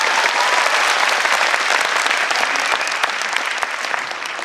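An audience at a leadership development programme claps together, a dense burst of loud applause that carries on steadily and tapers slightly toward the end, with no voices over it.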